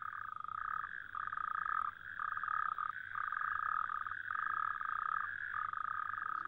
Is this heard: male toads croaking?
yes